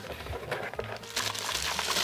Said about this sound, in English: So let's get it unboxed and put into the setup.